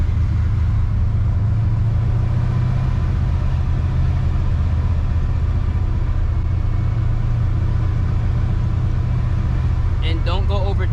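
A cammed, procharged 1999 Mustang GT making about 650 horsepower rolls in first gear, its engine a steady, lumpy low rumble up close, with people talking over it throughout.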